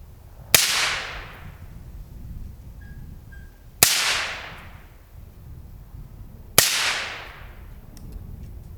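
Three 5.56 rifle shots fired through a CAT WB suppressor, each a sharp loud crack with a fast-fading tail, spaced about three seconds apart outdoors with no talking between them.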